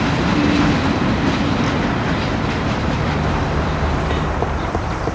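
A train in the Mafia video game rumbles past loud and close, a continuous low rolling roar with faint rhythmic clatter of the cars and no talking.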